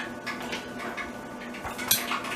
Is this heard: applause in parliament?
no